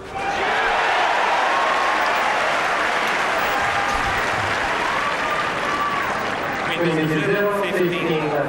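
Sustained applause from a large tennis crowd at a Federer–Nadal match in Rome, 2006, loud and continuous throughout, with a commentator speaking over the clapping.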